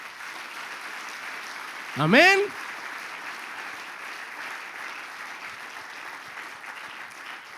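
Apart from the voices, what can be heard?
congregation applause in church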